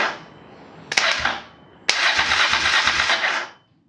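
A Honda Transalp motorcycle's starter motor cranks in two bursts, a short whirring grind followed by a longer one of about two seconds. Both are loud and close, and the engine does not catch.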